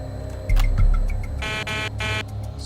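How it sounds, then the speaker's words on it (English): An aircraft stall warning, like the one on Northwest Airlines Flight 255, sounds in repeated buzzing bursts over a low mechanical hum, with a few short tones before the pulses begin. "Can we get the stall warning to sound?"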